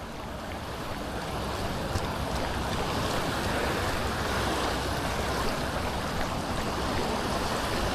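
Orange waves stained by an algal bloom wash onto a beach in Wales. The surf keeps up a steady, dense roar with a windy hiss and no voices.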